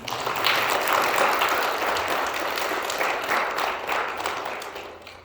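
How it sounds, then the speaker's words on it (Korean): Sunday worship congregation in a church claps for newly arrived members, a full, even wash of applause from a crowd lasting about five seconds and slowly fading at the end, without talk. "예, 박수를 하나 있습니다."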